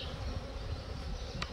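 Honeybees buzz steadily at close range while a beehive is opened for inspection, a continuous low drone with a brief higher accent near the end.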